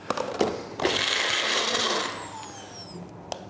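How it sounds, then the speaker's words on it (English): Kitchen blender whirring as it purees hamburger with Nutilis Clear thickener powder, starting with a few knocks and clicks, then a loud steady motor whine for about a second before winding down, with a final click. "Screw the lid on. And just blend it for about 20 seconds."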